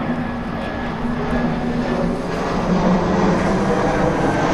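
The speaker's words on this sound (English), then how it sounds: "I don't believe it, there's another plane." An airplane passing low overhead on approach to a nearby airport, heard from a garden as a loud, steady broadband engine roar with a droning hum that swells slightly toward the end.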